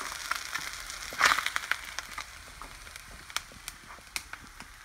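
Fish fillets frying in a pan with no coating: a steady sizzle with scattered crackles and pops, plus a brief scraping stir near the start, heard up close.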